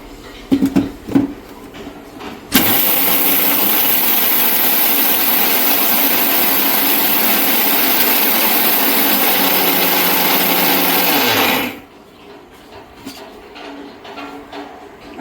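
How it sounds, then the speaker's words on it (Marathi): A kitchen mixer grinder starts abruptly and runs at a loud, constant high whirr for about nine seconds while grinding dal and rice into baby-food flour, then cuts off, leaving faint handling sounds before and after. "परत एकदा मिक्सर करून घेऊया त्याला"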